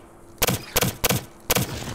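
Gunfire from weapons shooting enemies in the sci-fi game Exoplanet: First Contact: four sharp, loud bursts in quick succession, each a crackling double crack with a brief ringing tail, close and clear with no talk over them.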